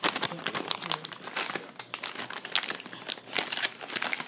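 Glued birthday-present wrapping paper being torn and crumpled while it is opened, a close, continuous crinkling with quick rips scattered throughout.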